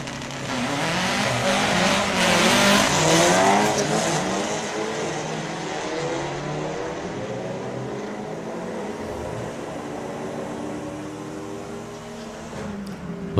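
Drag racing cars run down the strip at the National Finals, their engines roaring and rising in pitch together as they accelerate, then easing off toward the end.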